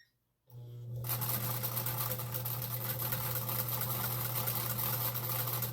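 A 1950s Pfaff 130 sewing machine from Germany starts after a moment of quiet and sews a zigzag stitch, running at a steady, fast, close-up whirring rhythm to the end.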